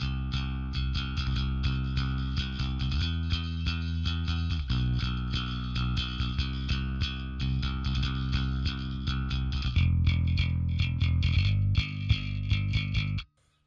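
Bass guitar played with a pick through an Ampeg SVT4 Pro amp and 8x10 cabinet with the compressor off, giving a loud, slightly overdriven riff of repeated picked notes with a punchier, less level attack, no voices.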